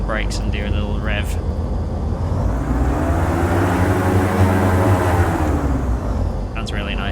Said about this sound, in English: I hold it on the brakes and do a little rev